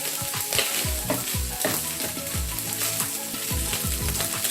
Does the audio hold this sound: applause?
no